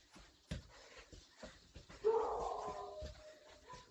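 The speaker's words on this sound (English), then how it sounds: "My dogs are apparently angry at something." Dogs bark in a few sharp, scattered yelps at moderate distance, followed by a longer whining, whimpering cry, all over a quiet indoor background.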